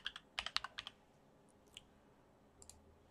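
A quick burst of computer keyboard typing, about seven close, crisp key clicks, is followed by a pause and a couple of fainter isolated taps in a quiet room.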